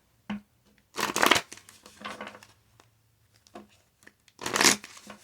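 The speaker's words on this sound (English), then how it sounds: "Let me shuffle some more." Tarot cards are shuffled in irregular bursts, several quick riffling and slapping passages separated by near silence, close and crisp.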